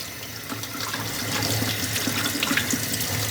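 Water runs steadily from a tap over a wristwatch, a continuous close splashing hiss that builds slightly and holds for a few seconds.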